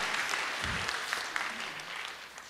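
A church congregation applauds, with soft, steady clapping heard at a distance and a faint low thump partway through.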